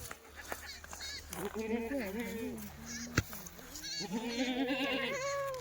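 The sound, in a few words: goat bleating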